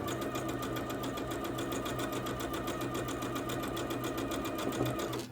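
A sewing machine runs continuously and close up, stitching a quilt block for a gift box pattern, with a steady rapid rhythmic whirr throughout and no talk.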